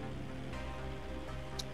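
Steady rain falls in GTA V, a dense continuous hiss that fills the scene alone, with no voices and a faint brief tick near the end.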